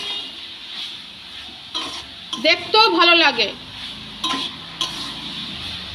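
Bathua greens stir-fried in a wok, a soft sizzle broken by a few scraping stirs and clinks of a spatula against the pan, with someone talking over it.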